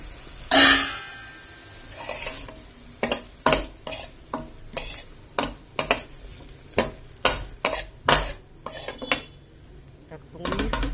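Boiled potatoes and cauliflower get stirred and fried in a pan for a dhaba-style gobi aloo, with a rhythmic series of sharp spoon-on-pan scrapes and clinks over a low sizzle, close and fairly loud.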